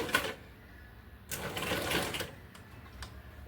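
A sewing machine stitching the back neck of a blouse: a short whirring run, a pause, then a longer burst of stitching and a few brief clicks, fairly quiet and close.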